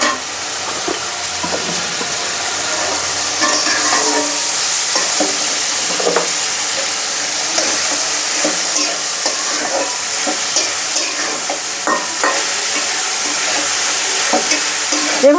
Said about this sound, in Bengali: এভাবে ধীরে ধীরে হালকা করে ভেজে নিব।